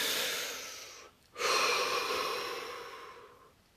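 A person takes a long deep breath in, pauses briefly, then exhales slowly and audibly, close and breathy with no talking.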